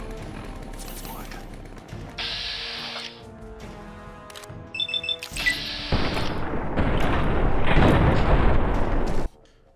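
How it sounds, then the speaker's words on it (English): Grenade explosions in Fallout: New Vegas, with booming blasts and bursts of gunfire-like crackle that build into a loud, sustained roar before cutting off abruptly, mixed with game sounds and music. "Joe Cobb, blew up the Legate's grenade. Oddly enough, if you really look closely, there's 2 explosions"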